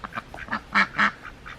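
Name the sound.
dual purpose heritage breed duck quacking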